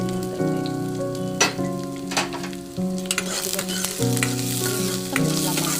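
Onions and green chilies fry in a pan for upma, a lively crackling sizzle with stirring clatters and scrapes, heard alone under background music.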